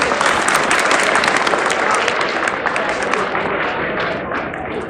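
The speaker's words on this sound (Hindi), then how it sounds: "एक बार तालियां बजा दी सबके लिए भाई, चलो क्लैपिंग" A hall audience at a moral-education talk for young people claps together for everyone, a dense, steady burst of many hands that stays loud for several seconds and eases slightly toward the end.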